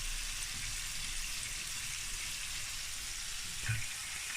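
Onion and garlic sautéing in a pan for lumpiang sariwa, a steady, moderately loud hissing fry that runs throughout, with a brief clatter near the end.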